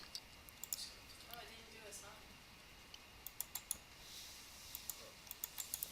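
Sharp mouse clicks, including a quick double click, sound close up during computer work applying materials, scattered through faint room noise and coming more thickly toward the end.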